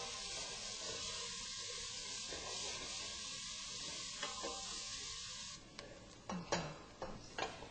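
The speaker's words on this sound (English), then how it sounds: "Add the onion into the pancetta grease and saute until translucent and tender." Onion sautés in pancetta grease in a pan, giving a steady soft sizzle, followed by several sharp clacks and scrapes of stirring near the end.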